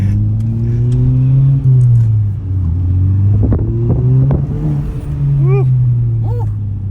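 A drift car engine running around 30 pounds of turbo boost revs loudly and steadily, its pitch rising and falling through several sweeps, close and dominant throughout.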